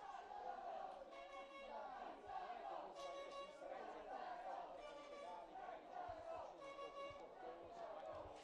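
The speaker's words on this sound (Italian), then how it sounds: "Si fanno sentire i tifosi dello Scanzano giunti qui ad Oppido per sostenere la squadra degli allievi" Scanzano youth football supporters cheering and chanting as a steady crowd roar at an away match in Oppido, with rhythmic chants rising in bursts throughout.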